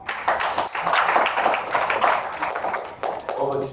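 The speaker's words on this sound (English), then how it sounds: "let's give the judges a round of applause" Applause for the judges at the close of a session at a university finance research competition final in Uganda, a steady patter of clapping from a modest audience lasting several seconds, with a voice speaking briefly near the end.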